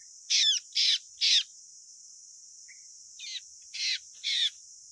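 A petuntung bird calls in two groups of three harsh, evenly spaced notes, separated by a short pause, over a steady high insect-like hum, during the dry season.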